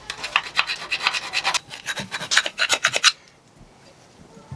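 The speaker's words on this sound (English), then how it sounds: "got that grinded down a little bit" Part for a Yamaha Aero 50 scooter stretch kit being ground down by hand, rapid close rasping strokes in steady bursts, then stopping abruptly and leaving near silence.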